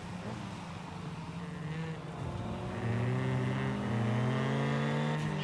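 A Hyundai i20 N Rally 2 rally car engine in the video game WRC Generations drones loudly and steadily, its pitch rising as the revs build and holding a strong, even roar toward the end.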